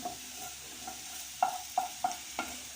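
Carrot and onion being stirred in a dry frying pan, a soft frying hiss underneath and a few distinct scraping strokes of the utensil toward the end, close and moderately quiet.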